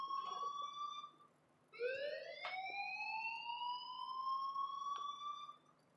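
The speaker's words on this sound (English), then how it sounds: "please turn off that alarm since that's your job" Fire alarm ringing in the video game Life is Strange, a loud electronic wail that rises in pitch, breaks off briefly, then sweeps up again with a pulsing tone, with no voices over it.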